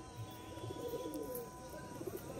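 Pigeon softly cooing at a loft among other birds, a faint low murmur under a steady background hiss.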